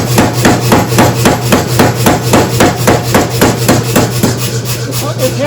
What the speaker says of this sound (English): I'll go back on the original flat and I'll hammer polish it